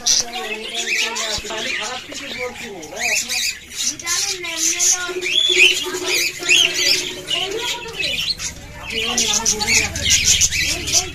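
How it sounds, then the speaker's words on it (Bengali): Budgerigars squawk and chirp in a crowded bird shop where caged birds, pigeons and cockatiels are sold, a dense mix of high calls running throughout alongside background voices and market bustle. "এই যে দেখুন অসংখ্য কালার বাজারিকা পাখি আছে, খাঁচা সহকারে সবই বিক্রয় করা হয়।"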